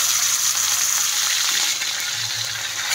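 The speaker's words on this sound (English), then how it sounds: "Mustard oil the pan and lightly fry the fish pieces." Fish pieces frying in mustard oil in a pan, a loud continuous close sizzle and crackle with no talking.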